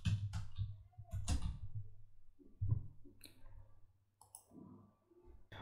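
A computer mouse clicks several times in charting software, with sharp, close clicks in short bursts separated by quiet pauses.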